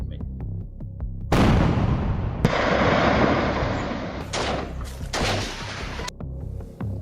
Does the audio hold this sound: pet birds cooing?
no